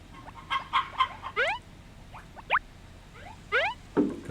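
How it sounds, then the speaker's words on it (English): Chickens cluck in the farming video game Harvest Moon Back to Nature, a series of short chirpy game-sound clucks and upward squawks repeating in clusters, clear and alone. "Oh, I gotta put the chickens in."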